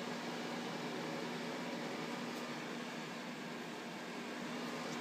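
Wood stove blowing out hot air, a faint steady broadband whoosh with a low constant hum underneath, continuous and unbroken with no talk.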